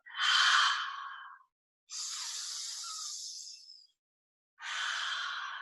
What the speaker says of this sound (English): Cycles and cycles of joyful and powerful breaths. Deeply in, deeply out.